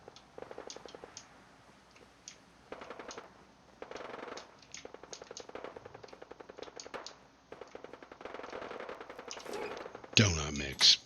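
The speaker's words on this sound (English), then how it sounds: "That sounds like a turret." Automatic turret fire in the video game Fallout 4, with repeated bursts of rapid gunfire broken by short pauses and ending in a louder, denser blast of shots.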